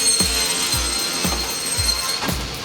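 Wood cut on a panel saw in an industrial packaging workshop, plywood sheets fed through: repeated sharp thuds and cutting strokes about every half second over steady loud machine noise, no talk.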